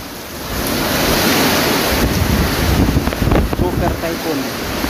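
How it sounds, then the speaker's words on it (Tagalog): Heavy rain and strong wind of super typhoon Aghon roar as a dense, continuous broadband rush, with gusting swells and no clear talk over it. "Nandun yung lakas ng ulan, hangin."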